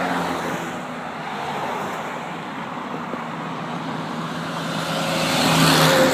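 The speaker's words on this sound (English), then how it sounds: "lots of traffic, eh?" Road traffic passes steadily nearby, a continuous broad engine and tire rush that swells toward the end as a vehicle draws closer, with no voices over it.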